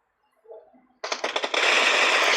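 Rapid automatic gunfire in a shooting video game, a soft blip first, then a dense loud burst of shots that grows into a continuous roar of fire.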